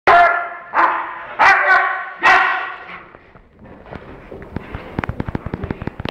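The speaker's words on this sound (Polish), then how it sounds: "Pies na komendę atakuje." A police dog barks four loud, close times in quick succession, then a flurry of sharp cracks and snaps follows, like scuffling and bangs during a demonstration attack on command.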